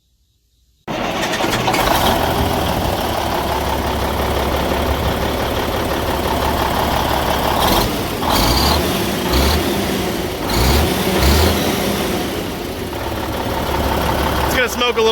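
A Cummins N14 diesel engine cranks and starts after injector replacement, then runs with a loud, close, steady rumble and a rough knock, with occasional louder revving bursts and voices talking over it.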